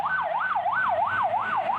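A fire engine heading to a market fire sounds a wailing siren that sweeps up and down in a rapid, regular cycle, about five rises and falls, loud and close with faint traffic rumble underneath.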